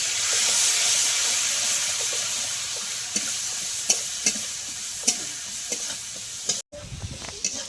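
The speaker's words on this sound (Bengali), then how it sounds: "এই যে বেটে রেখেছি আদা, মৌরি আর কাঁচা লঙ্কা একসঙ্গে দিয়ে দেব। দিয়ে একটু ভেজে নেব" Ground ginger, fennel and green chilli paste fries in hot oil in a pan with a steady sizzling hiss, broken by occasional soft stirring clicks and a brief silent gap before the frying resumes.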